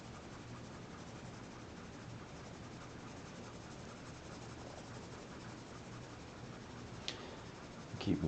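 A graphite pencil scratches steadily on paper, close and quiet, in a continuous soft rasp with no pauses.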